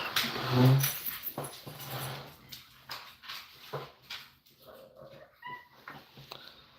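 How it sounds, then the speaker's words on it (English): Excited dogs whimper and yip in a home room, with a loud burst of high whines at the start, then a run of uneven squeals and snuffles. "my dogs jump up going crazy because they think I'm getting up"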